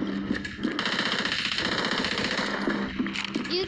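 Rapid automatic gunfire from the shooter game Standoff rattles on loudly and continuously, dense and close.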